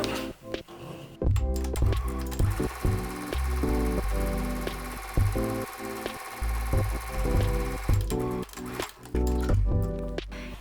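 A home sewing machine topstitches along a fabric apron dress, with bursts of rapid needle chatter broken by short pauses and clicks as the fabric is repositioned, close and loud, with no talking.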